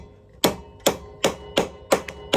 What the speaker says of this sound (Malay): ambil tukul, ketuk sampai tenggelam nut yang loose tu